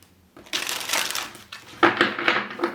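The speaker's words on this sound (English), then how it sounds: "One more shuffle." Tarot cards being shuffled during a psychic reading, a dry papery riffling and crushing sound in two bursts, close by with no talk over it.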